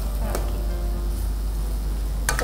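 Masala for prawn thokku sizzles steadily in a pan, with a couple of brief scraping stirs breaking through the constant frying hiss.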